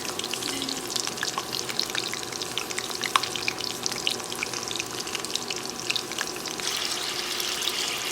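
Coconut shrimp deep-fry in hot oil, giving a dense, continuous bubbling sizzle with scattered crackles and pops. It is steady and close with no talking.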